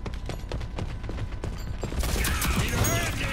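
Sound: shotgun fire in a video game

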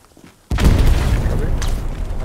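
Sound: satchel charge exploding on garrison in video game Hell Let Loose

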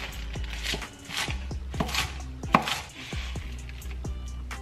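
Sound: chopping kale into small pieces

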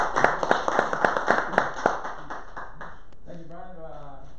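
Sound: audience round of applause

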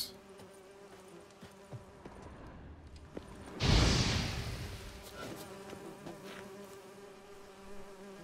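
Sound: bees buzzing in the video game Witcher 3: Blood and Wine

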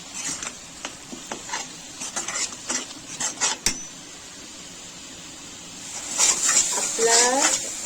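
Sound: stirring masala in pan for palak paneer

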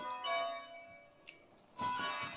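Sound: church bells ringing

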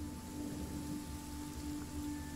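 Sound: rain falling in the video game Genshin Impact

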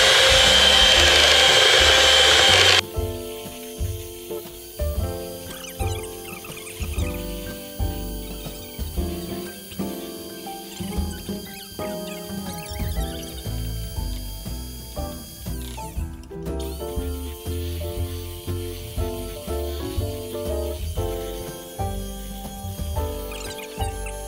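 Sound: mixer with whisk attachment whipping egg mixture

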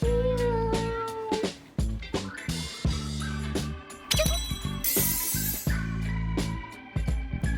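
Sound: cat meowing sound effect

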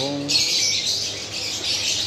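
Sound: birds squawking in an aquarium and pet shop

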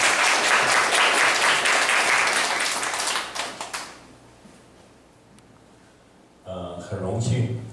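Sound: audience applause welcoming a speaker

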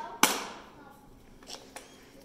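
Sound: hammering a horseshoe nail into a hoof

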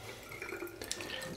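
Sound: tap water running over hands

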